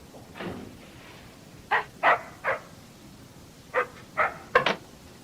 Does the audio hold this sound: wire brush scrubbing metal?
no